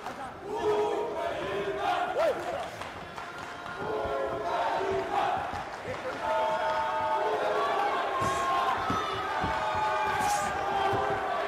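Boxing arena crowd at a World Boxing Cup semifinal bout cheering and shouting for an Indian boxer, a loud continuous roar of voices rising and falling with shouts, under a commentator talking.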